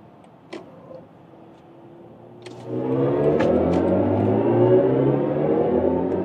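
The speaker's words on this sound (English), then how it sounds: "that was the acceleration onto the Autobahn. Super quick." A BMW i5 M60 Touring electric estate accelerating onto the Autobahn: a quiet cabin hum with a few faint clicks, then from about three seconds a steady louder rising drone of motor and road and wind noise that holds to the end.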